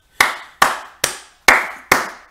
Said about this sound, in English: I give you applaud.